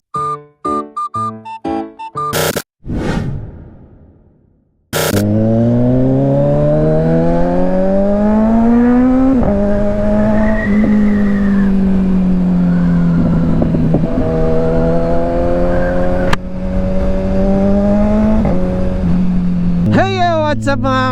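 An old Honda Beat scooter engine revs hard up close, a loud sustained drone that climbs and dips in pitch for many seconds after a few short choppy sounds at the start.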